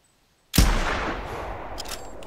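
A single loud rifle shot while hunting a bear in the game The Hunter Classic, a sharp sudden blast followed by a long rumbling echo that fades slowly into distant ambience.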